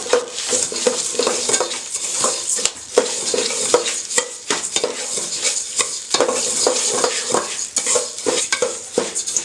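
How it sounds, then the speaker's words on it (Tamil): Dried red chillies roasting in a pan of oil for homemade sambar powder, with a steady close sizzle and frequent scraping, stirring clatter throughout, no talking. "எடுத்து வச்சுருக்க மிளகா வரி போட்டு நல்லா வறுத்துக்கணும்"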